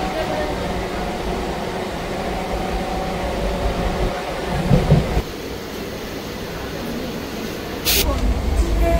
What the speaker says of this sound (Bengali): আমাদের ট্রেন এখন কাঁচরাপাড়া ছেড়ে কৃষ্ণনগরের দিকে এগিয়ে যাচ্ছে।